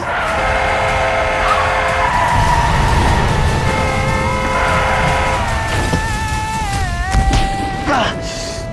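A car approaches and skids in a television drama scene, a long tire squeal sweeping over dramatic background music, loud and close, with a brief voice near the end.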